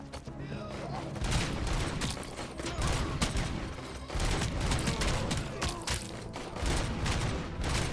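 In RoboCop: Rogue City, the player's weapon fires in rapid bursts of gunshots, loud and dense, with someone talking over the shooting.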